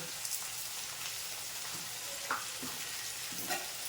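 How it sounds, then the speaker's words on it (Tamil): Tomatoes, cumin and black pepper sauté in a pan for a spinach and dal dish, giving a steady soft sizzle with a few faint spoon scrapes and taps, close and moderately quiet, with no talking. "போட்டு அப்படியே வதக்கிடலாம்."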